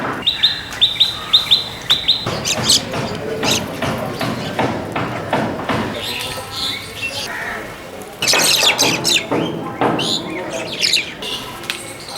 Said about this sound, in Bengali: বেশ কিছু শালিক উড়ে আসলো